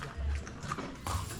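Horse on a Colombian roadside stop near the Coffee Axis, two or three close hoof clops or stamps over a brief moment, with no talking.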